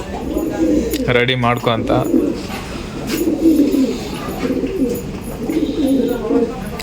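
A newly arrived pigeon coos in repeated low, throaty bursts close by, with a person speaking briefly over the opening moments.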